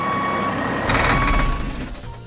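An animated red tow truck reversing, its backup beeper sounding steadily over a loud diesel engine rumble that swells midway and then eases, no speech.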